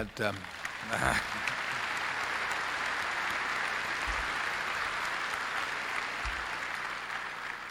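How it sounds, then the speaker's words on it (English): Broad applause from a large audience at a Berkshire Hathaway annual meeting, steady clapping filling the hall with a voice speaking over it at the start. "you should give him a hand"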